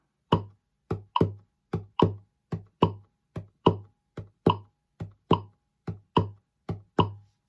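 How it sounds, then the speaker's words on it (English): A hand taps out a swung triplet rhythm, sixteen crisp percussive slaps in pairs with short gaps, close and dry with no other sound. "I'm only going to be tapping my hand on the 1st and the 3rd of each group of triplets."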